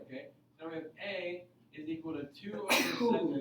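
A person sneezes once, sharply, in a classroom during an algebra lesson, the burst coming right after a teacher's spoken line and standing out clearly above the talk.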